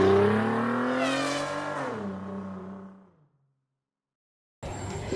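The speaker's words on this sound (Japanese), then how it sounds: "車が変な音します。 この音なんです。" Abnormal whining drone from a Suzuki Enecharge car, a strong tone that sweeps downward and fades out. After a short silence, a harsher mechanical noise starts abruptly.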